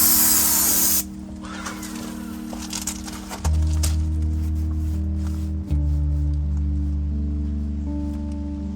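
A pressure washer sprays across a wooden deck being cleaned before staining, giving a loud broad hiss that cuts off after about a second and leaves a droning motor hum that shifts pitch several times.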